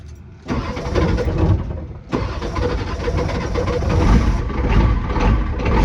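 A bullnose tow truck's diesel engine, just after the glow plugs are heated, cranks and catches close by, then settles into a loud, steady chugging idle with no talking.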